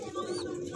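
A black Bombay pigeon gives a brief, soft coo amid a faint background murmur, close and fairly quiet.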